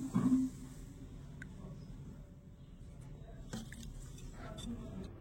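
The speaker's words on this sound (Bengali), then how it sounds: "এবারে সবকিছু হাত দিয়ে ভালো করে মিশিয়ে একটা ডো মেখে নেব" Flour dough mixed by hand with water and four to five tablespoons of white oil for vegetable kachori, giving soft, faint squishing after a brief louder burst at the start.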